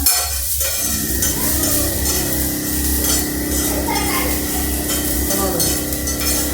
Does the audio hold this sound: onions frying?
yes